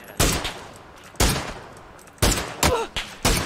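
Sharp gunshots from the battle-royale game PUBG crack out one at a time, about six in total, loud and close. The gaps between them are uneven, and each shot leaves a short ringing tail.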